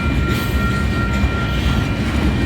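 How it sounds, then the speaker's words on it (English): A Union Pacific inbound manifest freight train, led by locomotive 6256, passes close by in Tempe at 1st Street, with a loud continuous rumble and rolling wheel noise throughout. "the end of the train is in sight"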